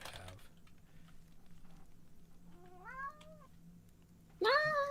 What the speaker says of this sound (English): I love the cat meows.